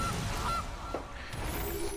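Goose honks sound as the Gilded Goose card is played in the MTG Arena digital card game: a couple of short, nasal honks, moderately loud and clear over low game ambience.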